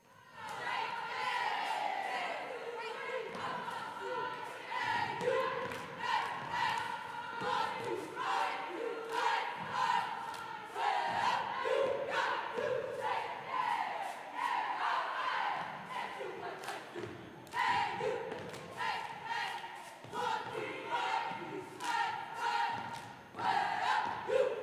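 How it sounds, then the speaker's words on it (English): Rival cheerleading squads at a high school boys varsity basketball game shout competing chants over a loud, continuous crowd roar, with rhythmic thumps and claps cutting through the noise throughout. "Had a little bit of a cheerleader battle there with the noise."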